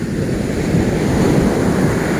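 Sea waves wash continuously up an eroded beach beside a restaurant, a steady close roar of surf mixed with wind rumble and no voices.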